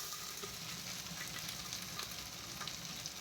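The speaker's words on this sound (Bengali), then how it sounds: "কুকারেও তেলটাতে গরম হয়ে গিয়েছে, এখন দিয়ে দেবো পেঁয়াজ" Onion frying in hot oil inside a pressure cooker, a steady close sizzle and crackle that runs the whole time with no voice over it.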